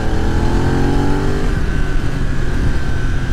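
A 2020 BMW F900R's 270-degree parallel-twin engine hums and revs up close, its throbbing pitch rising and falling steadily with no voices over it.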